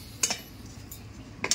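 Semolina dough is scooped from a pan onto a plate, making two pairs of bright metal clinks from a utensil striking the cookware, with quiet scraping between them.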